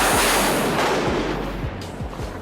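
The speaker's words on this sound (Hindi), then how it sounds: "पीछे एक धमाका हुआ और एक जोरदार बिजली इनके जस्ट बाजू में गिरी" A lightning strike hits close by in a Florida forest, and its thunder crash lands as a loud, broad roar with several deep thudding booms that slowly fade.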